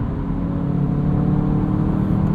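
A 2020 Volkswagen Jetta GLI Autobahn with a 6-speed manual cruises with its engine in natural mode, giving a steady, fairly quiet hum and low rumble that holds even throughout.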